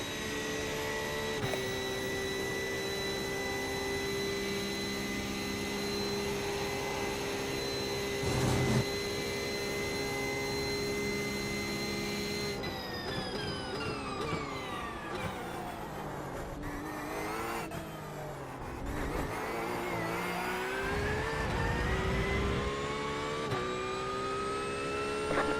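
A Porsche GT3 race car in the iRacing sim roars through a lap, its high engine whine climbing and dropping through gear changes and corners, with sharp upshifts and sweeping revs carrying on steadily.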